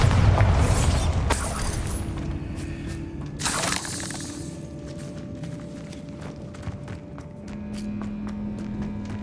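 A Bombarda blasting spell goes off in Hogwarts Legacy with a sharp shattering burst at the start and a second crashing blast a few seconds later. Both fade into a low ambient hum with faint scattered clicks.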